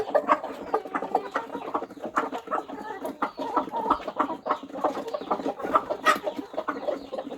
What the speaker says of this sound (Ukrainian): Це така курочка.